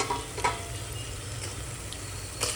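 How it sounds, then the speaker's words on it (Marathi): Chopped tomatoes hit a hot pan while cooking mutton pulao, giving a steady close sizzle and frying hiss, with a couple of light utensil clinks against the pan. "आता आपण ह्याच्यामध्ये टमाटा टाकूया"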